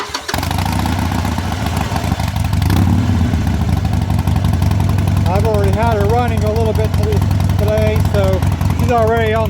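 A 2015 Harley-Davidson 1200T SuperLow with Vance and Hines exhaust, already warmed up, starts and settles into a loud, throbbing idle close by, while a voice speaks intermittently over it.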